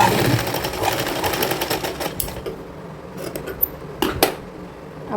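A sewing machine stitches fabric for a girls' co-ord set, running in a steady close whir through the first half, then pausing into lighter handling sounds with a couple of sharp clicks.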